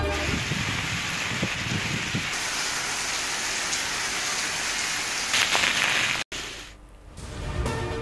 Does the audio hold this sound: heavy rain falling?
yes